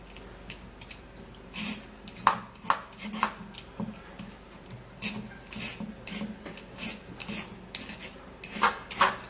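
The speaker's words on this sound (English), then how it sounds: "the first thing we're going to do is to scrape the carrots by removing the peel of this carrot." A knife scrapes the peel off raw carrots in steady rasping strokes that repeat in a quick, uneven rhythm, close and distinct over a quiet background.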